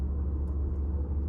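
A car cruising along a road at night, heard from inside as a steady, continuous low engine and road rumble with no talking.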